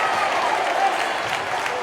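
Bethel basketball fans in a gym clap and cheer as a continuous, fairly loud wash of applause that holds steady through the short stretch, with faint murmuring voices in the mix.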